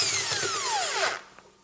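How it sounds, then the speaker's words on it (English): An electric impact driver fitted with a 10mm socket works a bolt loose while taking apart a washing machine, a close, loud, high-pitched whir with a falling tone and rapid hammering that stops near the end. "I have in here 10mm socket, an electric impact driver, and there is this bolt"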